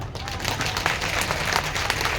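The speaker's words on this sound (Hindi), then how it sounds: "इसलिए अपने आप के लिए ताली बजाइए।" A crowd applauds at a gathering in Bodh Gaya, a dense, steady wash of many hands clapping together that holds at an even level throughout.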